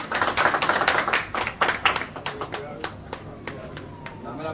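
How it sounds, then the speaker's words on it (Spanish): Crowd applause at a Mangú Challenge cooking contest in Lawrence, Massachusetts, a dense burst of many hands clapping for the winner that gradually thins out and fades over a few seconds. "quiero un fuerte aplauso"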